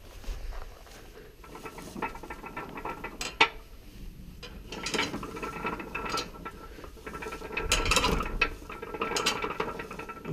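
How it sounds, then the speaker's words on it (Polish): Gearbox of a Fella TS310DR hay rake under repair, giving off irregular metallic rattling and clicking bursts, with several louder clatters toward the end, close by and without talk. "Ten piękny dźwięk w przekładni."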